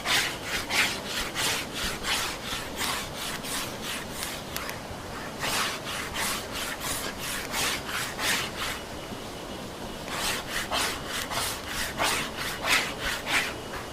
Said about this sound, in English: And I'll probably just do a light sanding with coarse sandpaper.